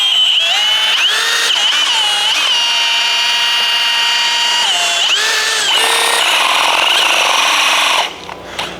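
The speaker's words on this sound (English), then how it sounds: "Using a drill and a large wire brush" A power drill spins a large wire brush to clean out the pivot of a Red E closing wheel arm, a loud, steady whining scrub with shifting pitch that runs close and continuous for about eight seconds before cutting off.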